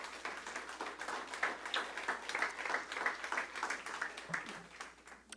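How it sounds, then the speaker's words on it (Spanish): A church congregation applauds together in a steady, dense wash of clapping that holds fairly even for several seconds, moderately loud and close, before thinning slightly at the end. "Le damos una ofrenda de palmas al Rey en el nombre de Jesús."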